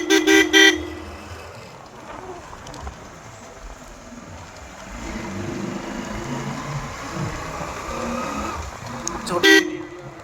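Roots horn fitted to a Hero Splendor motorbike gives short loud honks at the start and again near the end, with street traffic and ambient noise in between.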